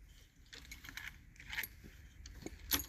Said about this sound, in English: The problem here is the ignition key just spins, okay?